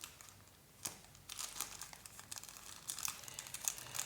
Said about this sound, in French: je viens couper ici. J'ai des ciseaux qui coupent presque plus.